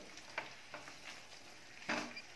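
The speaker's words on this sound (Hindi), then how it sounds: "अब इसे तब तक और भुनेंगे हम जब तक ये भरता तेल ना छोड़ दे" Eggplant bharta fries in oil in a pan, faint and close, with soft sizzling and several sharp scraping stirs.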